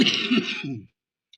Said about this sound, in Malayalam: അച്ഛൻ ചുമ വന്നു